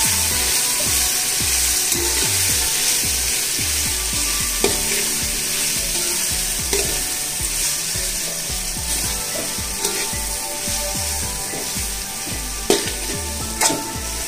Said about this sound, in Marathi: धनिया पावडर, काली मिरी पावडर हे छान असे एकत्र करून घेऊया।